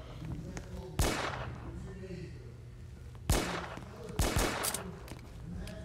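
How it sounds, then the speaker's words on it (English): Gunfire in the Roblox video game, a few sharp cracks spaced across the stretch over a steady game background, with people talking throughout. "Somebody is shooting."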